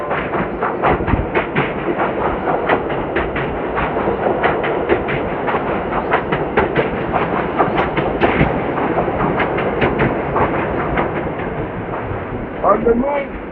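A New York subway train at the 34th Street station in Manhattan, a loud continuous roar with rapid clattering wheel beats running throughout, steady and close.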